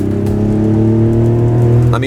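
Mazda CX-90 (2026) engine pulling out from a stop, a steady low harmonic drone held loud and close throughout, with a faint voice briefly underneath.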